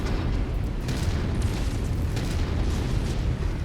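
Mech cannons fire in MechWarrior 5: Heroes of the Inner Sphere, a dense continuous barrage of heavy booms and rumbling blasts that stay loud and steady throughout with no talk over them.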